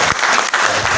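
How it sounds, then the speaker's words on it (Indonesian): Audience applause at a 2019 graduation ceremony of STKIP Nuuwar Fakfak, held at Grand Papua Barat in Fakfak: a dense, loud wash of clapping from a large crowd that fills the whole second without letting up. "Tepuk tangan semua."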